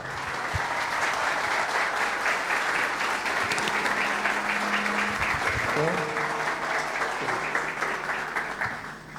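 A crowd at a radio station anniversary book presentation applauds the governor, a full, sustained roar of clapping lasting throughout, with some voices and a brief tonal hum beneath.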